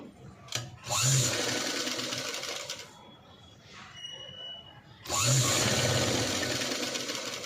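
A sewing machine stitches the sleeves of a boat neck blouse in two close, loud whirring bursts separated by a quieter pause.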